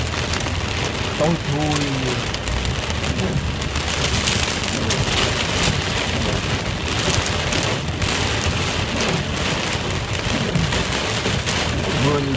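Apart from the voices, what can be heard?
heavy storm-like rain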